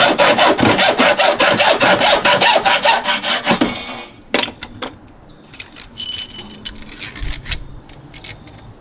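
A hacksaw cuts through an aluminum ring on salvaged copper pipe held in a vise, rapid rhythmic back-and-forth strokes loud and close for about four seconds, then stopping and giving way to scattered light clinks and handling taps.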